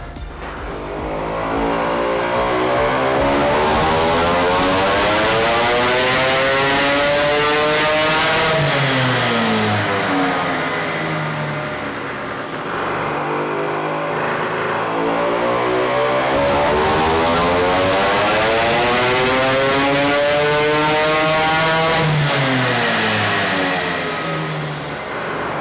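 A tuned 40 hp Vespa scooter engine with a BFA 306 kit revs hard and repeatedly on a dyno, its pitch sweeping up through the range and dropping back, loud and close with no talking.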